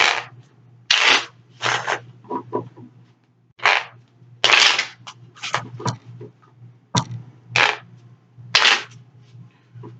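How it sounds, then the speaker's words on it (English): Tarot cards are shuffled in a series of quick riffling bursts, each a short crisp flutter separated by brief pauses, close and fairly loud with no talking. "Let's do 3 more shuffles, okay?"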